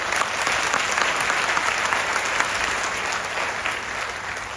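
Clapping from a large audience at a Modicare network marketing meeting in Varanasi, a loud, dense and steady burst of applause filling the room, easing slightly near the end.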